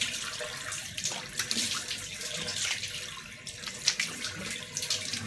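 Water runs from a tap into a sink while a face is rinsed, a steady splashing stream with irregular bursts as hands scoop and splash water, close by with no talking.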